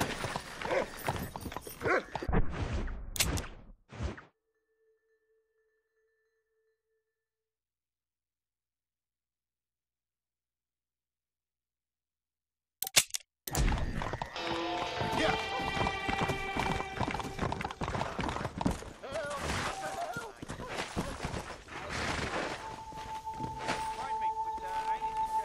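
In Red Dead Redemption, a horse's hooves clip-clop in a rapid gallop, loud and close, with neighs and game chatter, then near-silence for several seconds before galloping and background sounds resume with voices.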